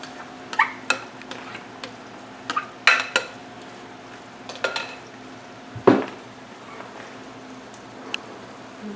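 Shepherd's pie meat mixture going back into the pan and being stirred, heard as scattered metallic clinks and scrapes of a utensil against cookware, close by, with quiet pauses between knocks and no speech.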